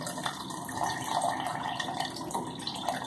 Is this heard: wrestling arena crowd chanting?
no